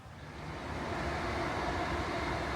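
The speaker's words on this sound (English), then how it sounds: "we might as well wait for that train now if it's not far off" A passenger train on the Robin Hood Line rolls past close by with a steady, loud rumble and rail roar that swells slightly and then holds throughout.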